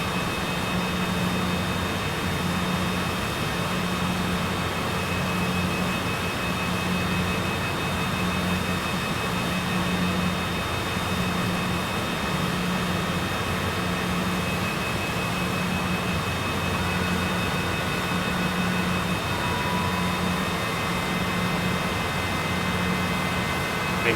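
A small Cessna taxiing toward a parking gate in Microsoft Flight Simulator, a steady engine drone with a pulsing low hum and a thin whining tone held evenly throughout, with no speech over it.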